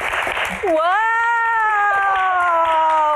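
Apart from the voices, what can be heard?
audience applause for panelists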